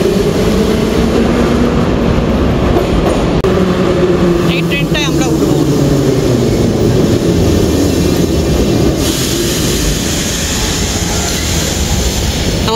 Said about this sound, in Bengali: আমরা নেমে এলাম ট্রেন থেকে।